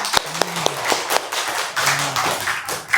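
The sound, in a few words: applause, clapping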